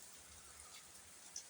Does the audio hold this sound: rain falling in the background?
yes